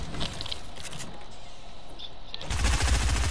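Shotgun fire in a video game, a brief loud broadband burst near the end after a stretch of low, even game ambience.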